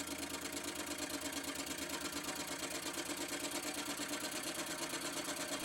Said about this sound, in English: Back over to the milling machine, and I can take off the rest of that material.